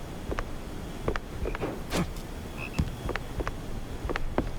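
Cartoonish croaks from a frog in a hat in the video game Mouse P.I. For Hire, a series of short repeated calls spread evenly over a low, noisy game background.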